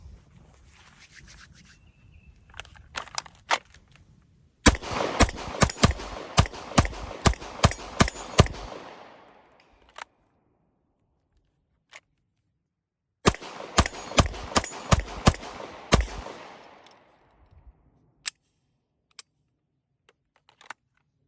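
Two rapid strings of sharp gunshots fire in quick succession from a rifle fitted with a Tyrant Designs flat trigger, with brief near silence between the volleys and a few isolated shots trailing off at the end.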